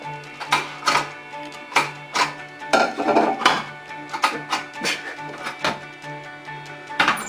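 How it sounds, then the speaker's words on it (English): A pot lid and cookware clank and clink repeatedly while rice is being made for bibimbap, a string of close, sharp metallic knocks spread through the moment. "And then put the lid on it, and we will have rice."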